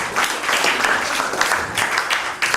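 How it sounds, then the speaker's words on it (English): Audience applause for speakers at an entrepreneurship event, a dense burst of many hands clapping close and loud for a couple of seconds. "Can we have a round of applause?"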